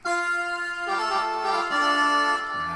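A Yamaha PSR-S750 keyboard saxophone voice holds a sustained tone playing a short melodic phrase, smooth and reedy, alone without talk.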